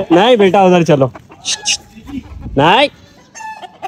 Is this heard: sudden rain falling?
no